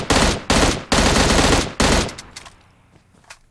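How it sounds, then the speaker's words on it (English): M16 rifle firing bursts in PUBG Mobile, four loud, close, rapid bursts in quick succession, then fading echoes and a few faint distant shots. "the M16 firing rapidly, burst fire"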